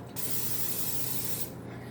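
Food Lion cooking spray hisses onto a pan in one steady, continuous burst lasting over a second, close and loud, then cuts off abruptly.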